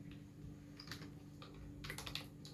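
Computer keyboard typing, a soft run of scattered key clicks at low volume over a steady background hum, with no one speaking.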